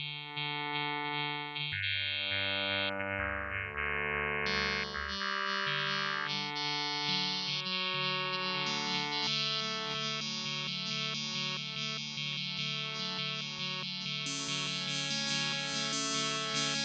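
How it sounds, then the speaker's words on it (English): A Technos Acxel additive resynthesizer sounds a sustained tone full of pinging high partials, the harmonics shifting in stepped stages over a steady bed, clean and continuous with no voice. "So we have this sound that now has a bunch of high partials, which have this kind of pinging envelope going on, this repeating shape"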